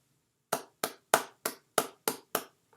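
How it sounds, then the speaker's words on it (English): Seven crisp, evenly timed hand claps ring out close and alone against silence, forming a slow, deliberate rhythm. "and the Dub C Hooligans, we clap you out."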